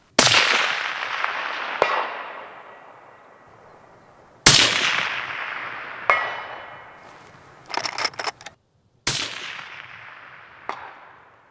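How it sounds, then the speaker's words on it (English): Five gunshots ring out at a shooting range, each a sharp loud crack followed by a long decaying echo, spaced a few seconds apart. "Okay, so that was 5 shots."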